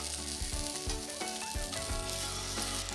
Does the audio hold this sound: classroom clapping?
no